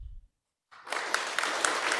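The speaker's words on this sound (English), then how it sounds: "Please hold your applause." Applause from the audience at a county commission special meeting, beginning abruptly after a brief silence and continuing as steady, fairly close clapping.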